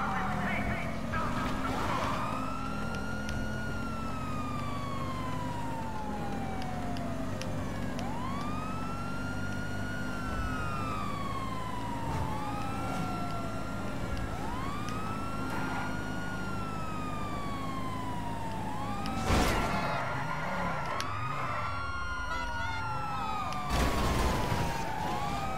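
Police car siren from Grand Theft Auto V, wailing in repeated rising and falling sweeps over steady engine and traffic noise during a stolen police car chase, with sharp crash bursts near the end.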